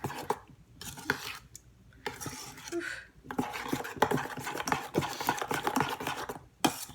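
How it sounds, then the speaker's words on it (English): A spoon stirs a dill dip mixture with lime juice in a bowl, giving soft scraping and clinking strokes in uneven bursts with brief pauses, close by, with no talking. "I'm just going to stir it all together"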